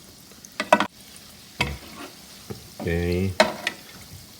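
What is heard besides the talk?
chicken balls frying on medium-low heat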